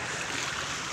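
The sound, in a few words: rainwater flowing along a flooded road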